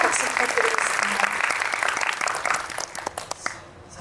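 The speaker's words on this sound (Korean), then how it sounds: "조재우 위원님께도 큰 박수 부탁드리겠습니다." A film screening audience at a Korean movie talk event gives sustained applause for a guest, with dense clapping that thins and fades toward the end as talk continues over it.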